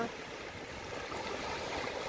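Sea surf washing against a rocky shore with small caves, a steady broadband rush of water that swells slightly toward the end, fairly close and with no voices.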